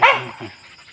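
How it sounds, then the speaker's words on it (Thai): A hunting dog gives one sharp, close bark in a forest, the bark loud at first and fading quickly into near silence. "ถ้ามันเห่าแบบนี้ก็ถือว่าร้อยเปอร์เซ็นต์เลยพี่น้อง"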